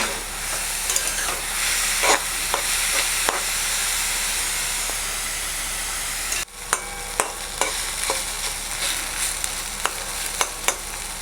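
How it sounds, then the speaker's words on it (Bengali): Papaya pieces frying with turmeric in a pan, a steady hiss of frying with sharp clicks and scrapes of a spatula stirring at irregular intervals, close and alone. "এবার এটাকে ভালো করে পেঁপেটাকে ভেজে নিতে হবে।"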